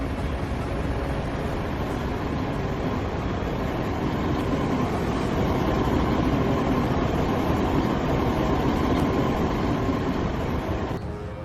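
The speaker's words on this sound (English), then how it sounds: "A vehicle barely escaped the tracks seconds before a speeding train arrived." A speeding train arrives at a railway level crossing with a steady, loud rumbling roar and rattling of wheels on track that continues unbroken throughout.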